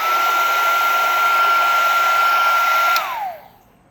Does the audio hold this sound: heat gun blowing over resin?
yes